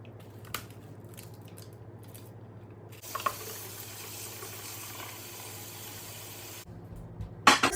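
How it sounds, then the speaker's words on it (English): Tap water runs into a sink while bite-sized cauliflower pieces are washed, a faint steady splash that starts partway through and stops near the end, with no talking. "The first step is to cut the cauliflower into bite-sized pieces and wash it."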